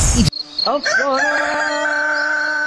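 A rooster crows loudly and close by in a coop of chickens and ducks, one long drawn-out call following a brief burst of noise at the start.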